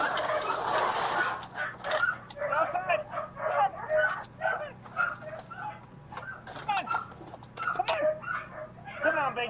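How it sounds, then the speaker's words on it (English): A husky wary of a masked deputy whimpers and barks in short, fairly faint yelps and whines that repeat through the clip, mixed with background voices. "The dog doesn't quite trust this masked stranger, but his lack of aggression leaves the deputy free"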